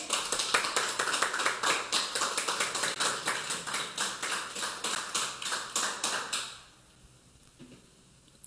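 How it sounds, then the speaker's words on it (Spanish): Congregation clapping for the Lord during a Spanish-language church service, dense rapid applause with rhythmic pulses lasting about six seconds before cutting off to a quiet room tone. "Démosle un aplauso al Señor."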